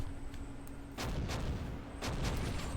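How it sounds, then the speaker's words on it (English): Gunfire and explosive blasts in the Close Combat: Gateway to Caen strategy game, with sharp bursts near the start and two heavier booming impacts, each followed by scattered shots over a low rumbling background. "We've already got some gunfire going on."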